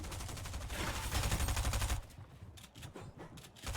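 Rapid bursts of gunfire in a Fortnite competitive match, a dense volley of shots for about two seconds followed by scattered individual shots, loud and close with no talking.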